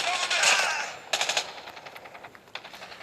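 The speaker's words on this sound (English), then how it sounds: "The KN-44 kills so amazingly fast with these new attachments, with the new gunsmith update." Rapid automatic fire from a KN-44 rifle in a fast shooter video game, a dense loud burst at first followed by shorter quick volleys and isolated shots, no voices.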